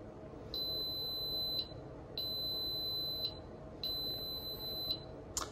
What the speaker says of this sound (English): So the rice just beeped